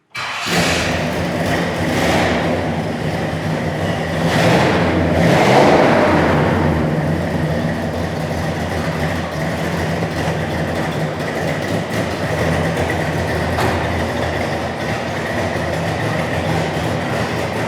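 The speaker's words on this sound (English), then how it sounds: "It's got a nice rumble to it, don't it?" Restomod 1966 Pontiac GTO with its engine running, a deep, steady rumble that swells briefly early on and then holds a continuous low drone throughout, close and loud with no talking.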